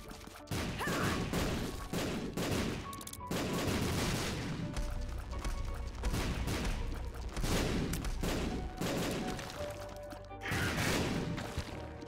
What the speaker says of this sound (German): Das sind ganz schön viele Schüsse,